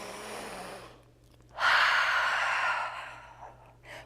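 During a slow-flow yoga stretch, a deep breath is taken audibly: a quieter inhale, then a long, loud, airy exhale lasting over a second, close to the microphone.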